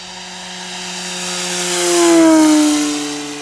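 Radio-controlled Yak-11 model plane making a full-throttle pass, a loud steady engine drone with strong harmonics that swells as it nears, peaks, and then drops in pitch as it passes by.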